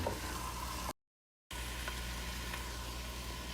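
Chicken pieces sizzle steadily in a pot with onion, bay leaf, cinnamon and galangal, a constant close frying hiss broken by a brief silent gap.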